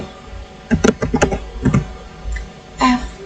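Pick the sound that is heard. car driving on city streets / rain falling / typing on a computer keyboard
typing on a computer keyboard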